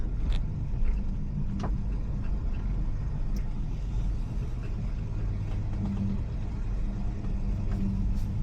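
A 1966 Plymouth Barracuda idling and creeping in reverse, with a steady low engine rumble close by and a few faint clicks and knocks over it.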